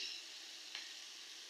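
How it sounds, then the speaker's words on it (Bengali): Rohu fish pieces fry in a pan with tomato as they are turned, a soft continuous sizzle with one small scrape of the spatula, faint and close. "এখন এগুলো একটু উল্টাই পাল্টাই নিব"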